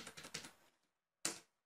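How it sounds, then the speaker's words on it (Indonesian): Numbers are typed on a computer keyboard: a quick cluster of soft, close keystrokes, then a pause and one final sharper key press, with no talking. "saya bisa langsung mengetik angka yang baru"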